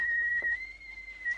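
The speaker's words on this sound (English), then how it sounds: "he said it's a long time ago since he heard a kettle whistle" A kettle whistling as it boils at an off-grid cabin, a steady piercing single tone held throughout, close and fairly loud with faint background clatter.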